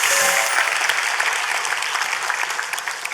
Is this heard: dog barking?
no